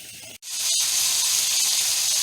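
Ground hamburger meat with chopped onions and green peppers sizzles steadily in a pan, a loud continuous hiss after a brief break at the start, with no talking.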